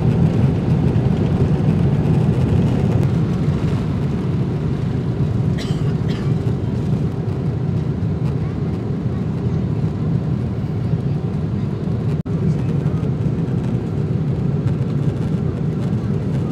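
Airplane in flight, a steady, loud cabin drone of engine and air roar holding evenly throughout, with a brief faint click partway through and no talking.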